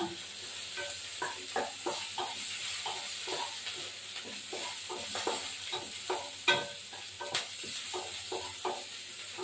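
Onions frying in a pan, a continuous sizzle beneath rhythmic scraping strokes of a spatula stirring them, close and moderately loud with no talk.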